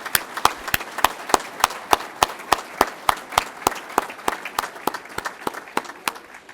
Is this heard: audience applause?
yes